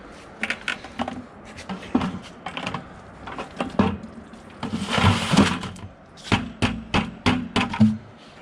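Wet concrete mix is dumped into a container while building a sturdy truck flag pole: close, irregular clattering knocks and scrapes, then a longer wet rushing slide midway and more sharp bumps, with no talk.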